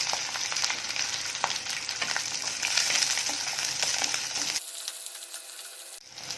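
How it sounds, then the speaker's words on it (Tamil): Small onions (shallots) with a little rock salt fry in a pan for a dried-fish curry, giving a dense, steady sizzle that drops away sharply near the end before a brief return. "வெங்காயம் சீக்கிரம் வதங்குறதுக்கு கல் உப்பு கொஞ்சம் போட்டுருக்கேன்"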